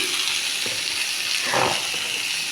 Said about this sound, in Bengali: জিরে, তেজপাতা, লঙ্কা ফোড়ন দিয়েছি